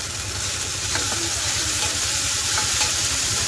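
Loud, continuous sizzling of browned onion masala in a frying pan as soy sauce goes in for a Mumbai-style cauliflower dry fry, a steady hiss with faint stirring scrapes and no speech.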